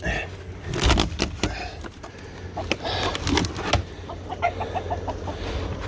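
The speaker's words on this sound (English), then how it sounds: "Rooster bird or grandpa chicken can now come out" A rooster crows and clucks amid scattered sharp knocks and outdoor background noise.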